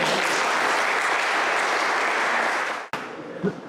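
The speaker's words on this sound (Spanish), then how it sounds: "Con estos mismos aplausos" Sustained audience applause fills a large hall at a political centenary event, steady and dense for nearly three seconds before cutting off abruptly, followed by faint room noise.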